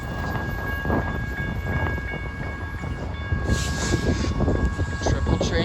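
A freight train on the Hannibal Sub rumbles and clatters steadily nearby, a loud continuous roll of railcars with faint tonal squeals over it.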